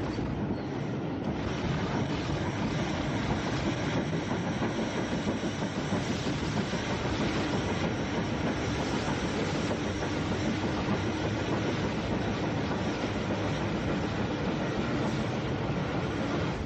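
Southern Railway Baltic tank steam locomotive running on a flyover beyond a junction, in 1950s–60s archive footage: a steady, dense rumble of wheels and carriages with a faint clickety-clack, continuous and fairly close, with no speech.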